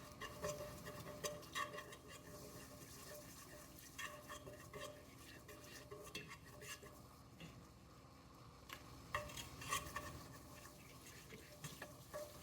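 Ghee sauce being stirred in a pot for Japanese white stew: soft, continuous scraping and gentle sizzling, very quiet and close, with no talking.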